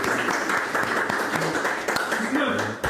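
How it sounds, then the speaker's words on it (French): Studio audience at a French dating game show applauds as the next contestant is called up, a steady wash of clapping running under an overlapping voice. "applaudissez-le"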